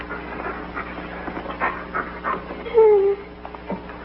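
A dog named Max pants in short, breathy bursts, fairly close, with voices speaking around it and a brief whine-like tone partway through.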